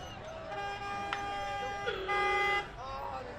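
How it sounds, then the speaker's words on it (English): Classic car horns honking during a Fourth of July parade, a couple of sustained toots including one long blast close by, with someone talking over the crowd. "You got horns in that thing, don't you?"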